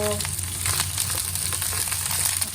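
Dried chili hits hot oil for a Chinese stir-fry fish fillet dish, giving a steady bright sizzle with crackling pops throughout, close and continuous under faint background tones.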